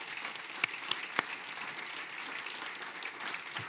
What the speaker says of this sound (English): a round of applause for our panelists here